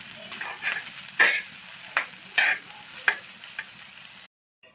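Cooked rice with egg and chicken is stir-fried for fried rice, a steady close sizzle with several sharp scraping bursts from stirring, before the sound cuts off abruptly near the end.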